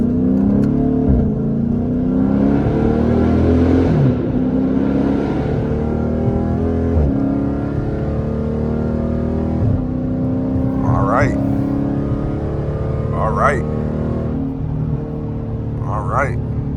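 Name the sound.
car accelerating and downshifting with paddle shifters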